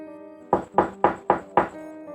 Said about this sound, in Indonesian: Tiba-tiba terdengar ada yang mengetuk pintu.